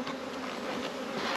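Dense, steady buzzing of honeybees packed into a nuc box, close and continuous with no pauses.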